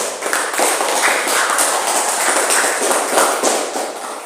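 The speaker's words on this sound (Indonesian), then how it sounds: "kita beri tepuk tangan untuk kelompok 1 ini" Students clap for a presenting group in a classroom, a bright, crackly burst of many hands clapping close by that stays loud and lively for a few seconds with no talk.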